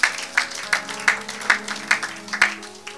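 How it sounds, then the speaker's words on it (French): A church congregation claps together in a steady, regular rhythm, with loud, evenly spaced group claps repeating about three times a second in a reverberant hall. "Acclamons pour la gloire de notre Dieu"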